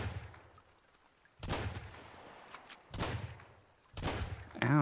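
A shotgun fires in the survival video game Sunkenland, three loud, sharp blasts spaced over a few seconds, each with a short decaying tail against a low, quiet background.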